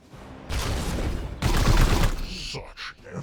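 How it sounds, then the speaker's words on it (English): Support fire in the Warhammer 40,000: Chaosgate – Daemonhunters video game: two loud, sustained volleys of rapid gunfire, one after the other, then a few shorter, fading blasts and crackles. "And there you go, support fire kicking in."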